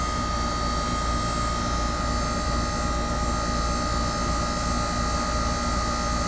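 A 3-ton Trane XR15 heat pump from 2011 on R-410A refrigerant runs in heat mode, giving a loud, steady mechanical roar and whir with a constant hum and no pauses.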